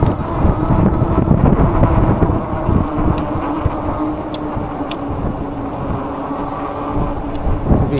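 Heavy wind buffets the microphone of a moving eBike on a night ride through city streets, a loud rumbling roar that swells and eases in gusts with a few faint clicks.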